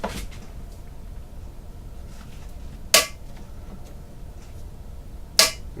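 Two sharp clicks from a torque driver, about two and a half seconds apart, as it tightens the scope base mount screws on a Swiss K-31 rifle, over a quiet background.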